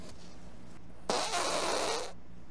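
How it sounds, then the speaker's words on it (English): A man farts close to his own camera during a burrito-eating video, letting out a single loud, sustained burst of about a second that stops abruptly after a quiet lead-in. "he farts into his own camera"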